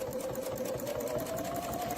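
A sewing machine stitching fabric along a quilting template at a steady pace, its rapid motor whir and needle chatter continuous and close throughout, with no pauses.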